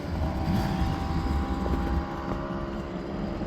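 Kawasaki 800 motorcycle engine running at a motorcycle gathering, a steady mid-level engine drone mixed with outdoor wind noise, fairly constant with a slight drop in level partway through.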